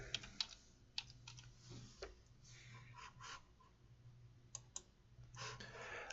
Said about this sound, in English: if I start typing remote desktop